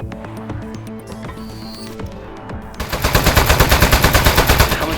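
Rapid automatic gunfire in the video game Aperture Desk Job, a loud, steady stream of shots that bursts in midway over a game's musical and ambient backdrop.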